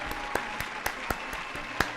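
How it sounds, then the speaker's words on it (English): A few people clap out of sync, with uneven, spaced-out claps over a low steady room hum, moderately close and with no talking. "Why did you clap it out of sync?"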